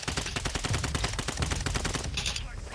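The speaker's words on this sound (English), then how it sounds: "Oh, I'm getting sniped from everywhere." Gunfire in the video game Warzone Resurgence, a loud, rapid string of sharp shots in quick succession for about two seconds, then a brief higher-pitched burst that tails away.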